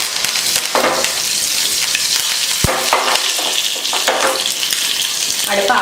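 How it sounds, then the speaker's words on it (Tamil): Mustard seeds and urad dal fry in a spoonful of hot oil for tempering a peanut chutney, giving a loud, continuous close-up sizzle with scattered crackles and pops. "ஒரு ஸ்பூன் எண்ணெய் ஊற்றிருக்கேன். அதில் கடுகு உளுந்து சேர்த்துக்கலாம்."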